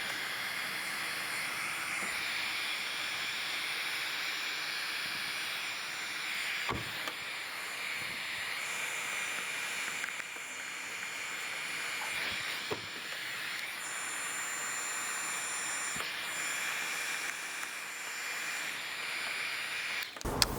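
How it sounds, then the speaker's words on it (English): Heat gun on a low setting blowing hot air over vinyl wrap film during a chrome delete on a 2018-2024 Toyota Camry's side door trim, a constant airy hiss at moderate level with faint handling knocks. "if you're wondering what kind of heat settings to use for a heat gun"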